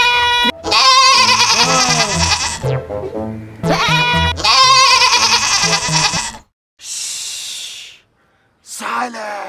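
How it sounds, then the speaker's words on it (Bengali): A goat on a farm bleats loudly and close by in several long, wavering cries separated by short pauses. "এই তো আমার ছাগল"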